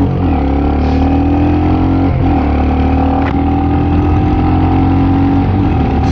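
A Royal Enfield Classic 350 motorcycle pulls away and accelerates from up close, its engine a steady, continuous droning hum that climbs slightly in pitch over several seconds, with a rough wind-like rush running underneath.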